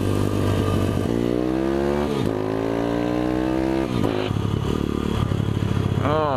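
A mini bike engine on a race track revs hard through repeated rising pitch sweeps, dropping sharply between gears with clattering mechanical noise, loud and close throughout.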